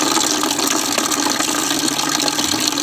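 Flush water, a mix of pure water and cleaner, drains out of an engine in a steady, loud rushing gush that pours continuously without pause.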